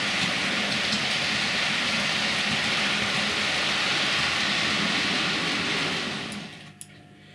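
A model railway locomotive or HST climbing from a lower level onto the outer track of a layout makes a steady, close mechanical whir and rumble that runs for several seconds before fading, followed by a faint click.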